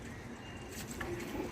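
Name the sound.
pigeons cooing while drinking green juice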